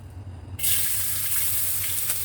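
Onion hitting hot oil in a pan for homemade spicy oil bursts into a loud, steady sizzle that starts abruptly and carries on evenly, with a faint low hum beneath.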